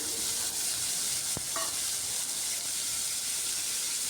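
Chopped tomato drops into sizzling gravy in a pan while cabbage is being cooked, giving a steady close frying hiss with a brief thump as the pieces land.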